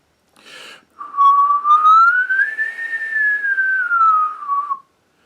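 After a short breath of air, one long whistled note rises gently in pitch and eases back down, steady and loud up close, used as a trumpet warm-up exercise.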